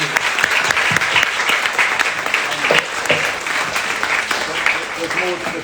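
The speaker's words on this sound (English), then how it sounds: "We have a round of applause." Audience after a talk on clay-extruded furniture gives a round of applause, steady clapping filling the room with scattered brighter claps, while a voice briefly speaks underneath.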